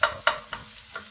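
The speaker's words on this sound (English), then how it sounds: "all we're going to do is just saute those off" Chopped celery sautés in a pan for a soup base, heard as four short, soft scraping stirs at even intervals over a low sizzle, close and quiet.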